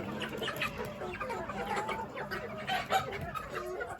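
A backyard flock of Americana, Ayam Cemani and Marans chickens clucks steadily and busily, several birds overlapping at close range with no one talking.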